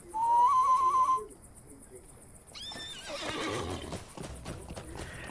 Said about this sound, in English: Let me mount on my horse.